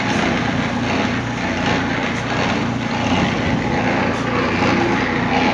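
A steady, loud car engine drones on without pause as it drives past on a street in Tkibuli, Georgia, a rough motor noise filling the scene with no voices.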